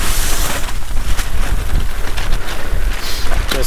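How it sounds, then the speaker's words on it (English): Strong wind gusts batter an ultralight backpacking tent during a spring alpine storm, a loud, continuous buffeting roar that surges and eases without pause, with a faint voice briefly underneath. "So, big gust."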